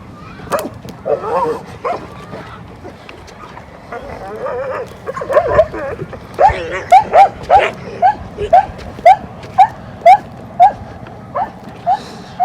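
A dog on a farm gives a steady run of short, high yips, about one every half second, after some murmured talk and rustling at the start.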